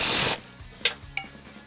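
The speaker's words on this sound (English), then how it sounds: "I'm just gonna drive this bolt to its home." A wrench with a 15/16 socket drives a bolt home while truck traction bars are being installed: a short burst of ratcheting, followed by two crisp metallic clicks, close up with no talk.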